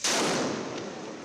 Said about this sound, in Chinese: 突然间传出爆炸声音